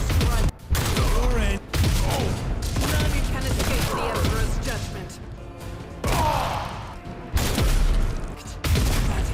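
Gunfire and heavy impacts in a firefight from the video game Warhammer 40,000: Rogue Trader, loud bursts and booms at irregular intervals with brief pauses, under a voice talking throughout.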